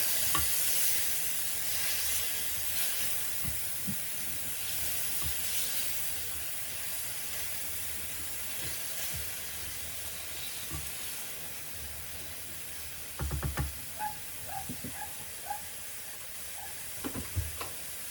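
Chicken tikka bhuna in base gravy, British Indian restaurant style, sizzles steadily in a hot pan, with a soft continuous hiss and scattered scraping and clinking as it is stirred, louder near the end.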